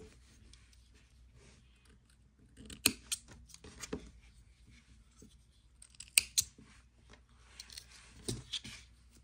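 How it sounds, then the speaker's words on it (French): Scissors snip off leftover yarn ends on a crocheted wall hanging, giving a few quiet, close, isolated clicks and cuts over a soft background. "je coupe les excédents du fil avant de continuer le travail"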